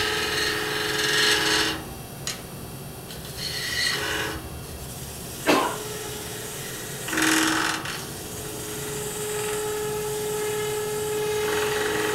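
Lathe tool chattering while turning a pewter collar, a steady harsh rattling hum that goes on throughout, with brief louder bursts and a sharp click partway through.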